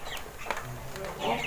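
Broiler chickens kept in a small room of a house, about 200 birds, clucking softly and steadily at close range with faint human voices murmuring underneath.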